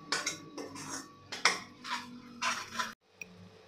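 Spices sautéing in oil are stirred with a metal spoon, making a run of close, irregular scraping and clinking strokes against the pan. A faint sizzle sits underneath, and a brief quiet gap follows the last stroke.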